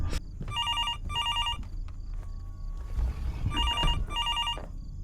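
Telephone ringing in the horror video game Fears to Fathom, Norwood Hitchhike episode: two bursts of trilling electronic bell rings early on and two more near the end, over low rumbling ambience with occasional thuds.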